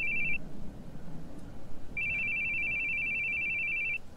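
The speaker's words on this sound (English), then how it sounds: "Your phone's ringing." A phone rings in a video game, an electronic two-tone trill sounding briefly, pausing, then ringing continuously for about two seconds over a quiet low background.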